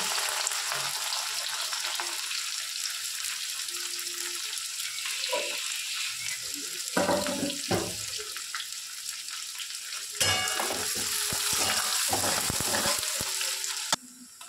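Chopped onion hits hot oil with cinnamon, cloves and garlic, setting off a loud, steady sizzle with stirring scrapes. A sharper burst of frying flares up partway through.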